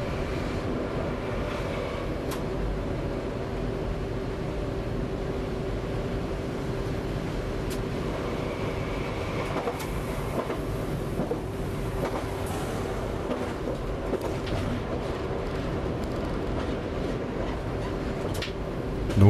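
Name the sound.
train running on the line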